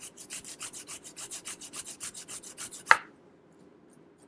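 Ginger is rubbed on a small grater in about twenty quick, even rasping strokes, close and clear, ending with a sharp knock before near silence.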